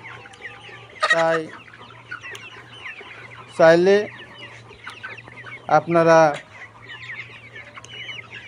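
Layer pullet hens on a poultry farm give three loud, sharp clucking squawks spaced a couple of seconds apart, close by, while someone talks and a low steady hum runs underneath.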